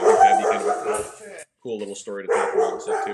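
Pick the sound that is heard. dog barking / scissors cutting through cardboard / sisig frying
dog barking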